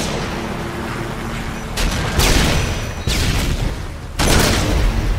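Loud rapid shots from an M21 rifle in Modern Warfare 2 multiplayer ring out in several heavy bursts, close and booming with dense noisy blasts between brief pauses.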